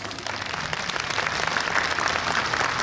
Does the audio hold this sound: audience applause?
yes